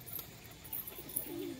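Faint, low cooing comes from pigeons kept at a loft, a soft steady murmur with no voices over it.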